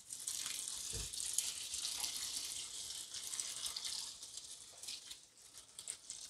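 Boiled water poured over pasta in a cauldron gives a steady, close splashing and gurgling stream that runs for several seconds without talk.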